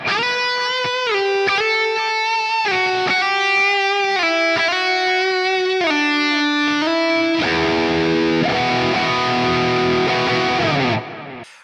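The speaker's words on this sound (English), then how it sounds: "Now let's bring the reverb in." Clean electric guitar through an ML Plexi amp simulator plays a sequence of sustained notes and chords drenched in reverb, each tone ringing out and blending into a lush wash before fading.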